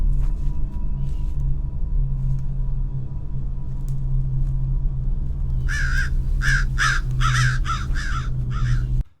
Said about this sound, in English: So obviously I put that sound of the crow in there.